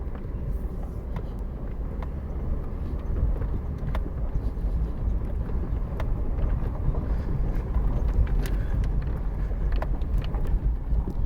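A Hummer H3 on a test drive at an Arizona auction: steady engine and road rumble from inside the cabin, with wind noise and occasional small knocks, continuous and fairly loud throughout.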